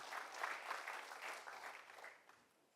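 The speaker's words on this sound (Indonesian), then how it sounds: "Tepuk tangan untuk Tuhan." Congregation at a Sunday church service in Manado clapping together, a steady wash of applause that gradually fades out over a few seconds.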